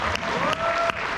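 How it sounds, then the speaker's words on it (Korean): Seminar audience applause at a resort event sounds as a brief burst of many hands clapping together at fairly close range. "박수 한번 쳐주십시오."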